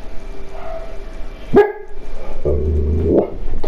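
A dog in the video game GTA Online gives a sharp, loud single bark, close up, followed by a rougher growling bark over steady game background noise.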